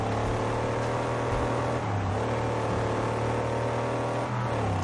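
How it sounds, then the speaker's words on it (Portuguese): Car engine in the Mad Max video game revs and drones steadily while driving, a loud continuous low hum with pitch rising and dipping slightly, no voices. "Dá uma voltinha aqui no carro pra vocês verem."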